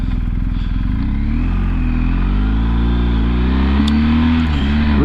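A BMW R1250 GS Adventure motorcycle engine drones steadily and loudly while the bike rides over a rough, cracked, potholed road, with a deep continuous hum and a faint clatter throughout.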